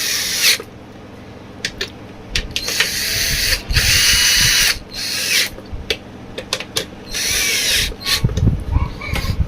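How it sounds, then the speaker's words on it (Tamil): A power tool gun tightens the motor bush of a Panasonic mixer in a series of short, loud whirring bursts up close, separated by brief pauses and small clicks. "இப்போ நம்ம கன் எடுக்கிறோம் டைட் பண்ணுறோம் டக்கு டக்குன்னு வேலையை முடிக்கிறோம்"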